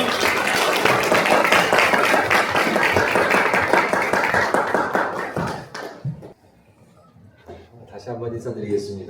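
A lecture audience claps to welcome a professor to the front, a dense and loud burst that fades after about five seconds, followed by quieter shuffling and a voice starting to speak.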